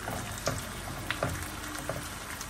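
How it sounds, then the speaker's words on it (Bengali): Tripe fries in a pan with a soft, steady sizzle and occasional spits and pops, quiet and close with no talking. "এই যে এখানে হচ্ছে ভুড়িটাকে ভাজা করতেছি"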